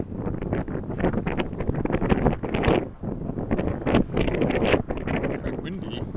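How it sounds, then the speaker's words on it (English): Steady wind buffeting outdoors in downtown Regina in January at about minus 12, a continuous rough roar with gusts rising and falling throughout. "Quite windy"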